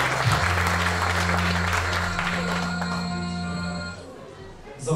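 An audience applauds at a 2019 sports awards gala, with sustained, dense clapping from a hall full of people that thins out and fades near the end.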